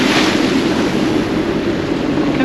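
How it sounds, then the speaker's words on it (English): Strong, steady wind roars across the microphone while choppy waves wash and churn underneath, loud and constant throughout, on a very windy day at sea off the Rock of Gibraltar. "Lots and lots of wind right now."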